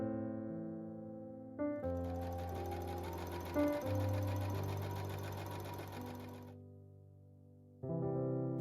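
A sewing machine stitches down a folded petticoat waistband, leaving an opening for elastic, running as one steady motorised hum of about five seconds between quieter pauses at either end.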